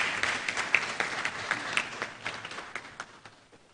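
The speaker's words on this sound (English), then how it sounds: "Distinguished audience, with a round of applause" An audience applauds a speaker at a founder's week celebration ceremony, steady dense clapping filling the hall and gradually fading out.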